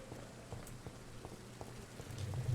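Rain in the video game Vampyr, a faint steady patter of drops on surfaces with a low hum underneath, heard alone without talk.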